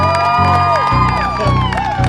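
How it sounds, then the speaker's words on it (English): A crowd at a San Francisco political recall event cheers and whoops for Joe Collins, with loud, sustained shouting voices over scattered clapping in a short, lively burst. "Give Joe Collins a round of applause."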